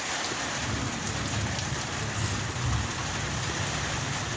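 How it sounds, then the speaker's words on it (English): Steady rain falls at night during a thunderstorm, a dense, continuous patter and hiss that stays fairly loud and even throughout, with no voices. "Man, it's raining out here tonight."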